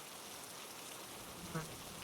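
Rain patters against window glass in a steady, dense hiss that fills the whole stretch, with a faint brief tap partway through.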